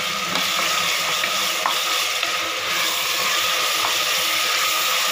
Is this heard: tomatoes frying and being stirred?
yes